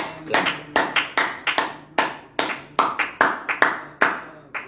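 A church congregation at morning prayer claps in acclamation: sharp, even, rhythmic handclaps about twice a second, loud and close, with no voices over them.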